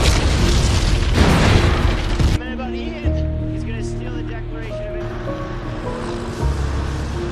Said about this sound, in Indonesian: sehingga membuat Ben dan Riley berhasil selamat dari ledakan yang terjadi.